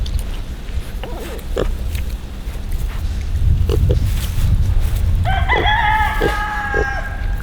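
Pigs grunt and oink in short low bursts, and a rooster crows loudly near the end over farmyard background noise.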